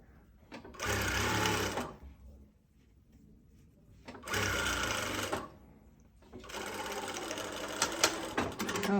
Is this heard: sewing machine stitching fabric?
yes